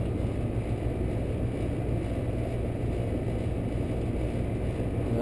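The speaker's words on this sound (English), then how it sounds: "Compressor's running at 11 amps." An air conditioner compressor runs steadily during a no-cooling service call, a continuous low droning hum with no breaks or change in level.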